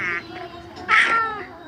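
A cat in the Minecraft video game gives a couple of short, bright meows, one faint and one louder near the middle, against a quiet background.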